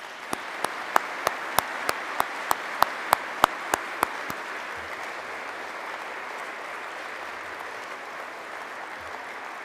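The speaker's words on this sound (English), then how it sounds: "join me in a round of applause for all of those thanks that I just threw out" A crowd applauds at an Anchorage Fire Department academy graduation, with a run of sharp, evenly spaced claps over a steady wash of clapping for about four seconds before the clapping thins out.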